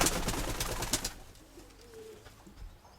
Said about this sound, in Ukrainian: Ось, тут два голубеньонка.